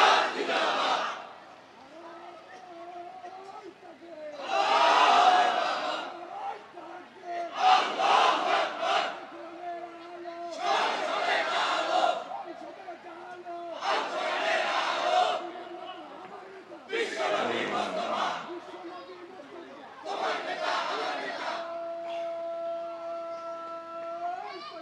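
Large crowd at a Bangladeshi Islamic political rally loudly chanting the slogan 'Islami rajniti zindabad', answering a leader's call in repeated rhythmic bursts of massed voices separated by short pauses.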